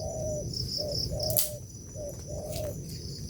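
Repeated bird calls, short tonal chirps recurring every half second or so, with a sharp higher squeak midway over a low background hum.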